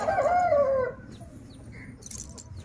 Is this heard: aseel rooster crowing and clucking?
yes